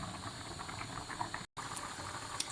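Dhal gosht curry with water simmers vigorously in a pot on high heat, a continuous close bubbling and hiss that cuts out for a moment partway through.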